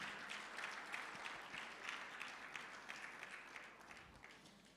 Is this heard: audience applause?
yes